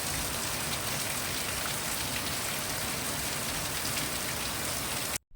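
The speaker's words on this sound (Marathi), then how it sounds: "अर्धा तास झाला जवळजवळ असा पाऊस आहे" Heavy rain pours down in a dense, steady roar of drops on a hard surface, continuous and loud, cutting off abruptly at the end.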